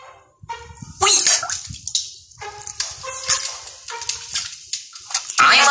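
Water splashes in a pool in short, irregular bursts and sloshes, close and fairly loud, with quiet drips and gaps between the splashes.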